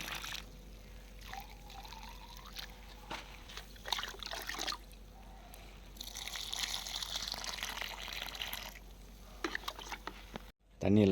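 Water is poured from above onto freshly repotted bare-root rose plants in a garden, a faint intermittent trickle and splash with quiet background sounds.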